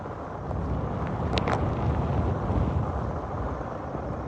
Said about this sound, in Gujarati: હજુ પણ ભારે પવન સાથે વરસાદ છે તે રાજકોટમાં ચાલુ છે.